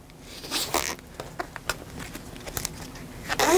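Lizard Skins handlebar tape is wound around a bicycle bar, giving close, quick zippy rasps and crinkly rubbing bursts in an irregular rhythm, with no talking.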